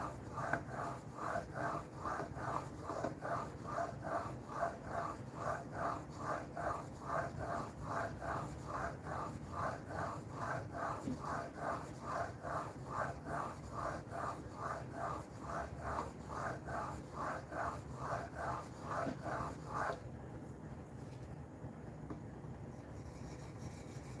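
A knife is drawn over a whetstone in steady, evenly spaced rasping strokes, close and fairly quiet, repeating for about twenty seconds before stopping.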